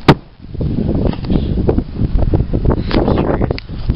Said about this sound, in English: It's really windy out here today, guys.